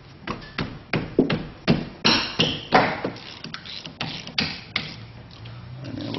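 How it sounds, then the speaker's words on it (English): A wrench works loose the caliper bolts on a rear disc brake, giving a steady series of about a dozen sharp metallic knocks close by, evenly spaced, with no talking. "We're going to crack our bolts loose."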